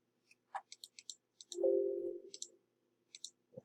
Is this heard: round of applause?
no